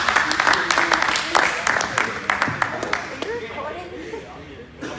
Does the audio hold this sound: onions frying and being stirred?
no